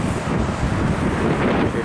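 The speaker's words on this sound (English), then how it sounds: "The gusting, gusty wind." Gusting wind buffets the microphone at a bus stop by Seaford Station, a steady loud broadband roar with slight surges throughout, no voices.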